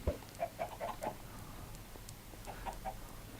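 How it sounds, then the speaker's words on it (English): Chickens on a video game farm cluck in short bursts, a few quick clucks in a row, then a pause, then another run, moderately close over a faint background. "Let's just fill up the chickens."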